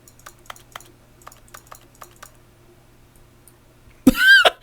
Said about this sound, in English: clicking makes a little keyboard noise